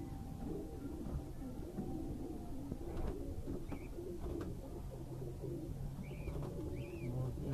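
Pigeons at a dairy in Multan keep up a steady low cooing against a busy, rumbling background, with a few brief higher chirps near the end.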